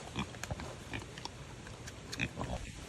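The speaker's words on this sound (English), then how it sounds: "Pigs. One baby pig." Pigs on a farm, including one baby pig, grunt and snuffle in short irregular bursts at close range, with small chewing and rustling noises between them.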